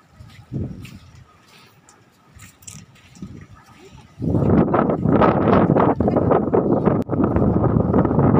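Strong wind gusts roar into the microphone at an outdoor viewpoint, soft rustling at first, then a sudden loud, sustained buffeting blast that drowns everything for the rest of the stretch.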